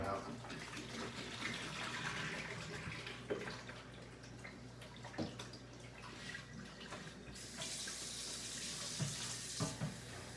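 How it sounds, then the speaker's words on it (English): A tap runs into bottles being refilled in a lab sink, a soft continuous stream with small splashy surges and a brief brighter gush near the end, faint and close. "Right now, I'm just filling the bottles back up with tap water."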